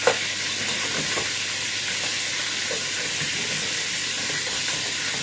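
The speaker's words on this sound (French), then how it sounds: "Je fais revenir ça et puis après je vais jeter mes oignons dedans" Marinated meat sautéing in a hot pan ahead of the onions, a dense steady sizzle and hiss running throughout with occasional faint stirring clinks, close and fairly loud with no talk.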